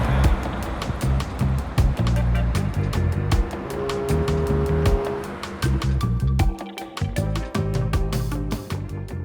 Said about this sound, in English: We're going to get a bit of traffic noise here.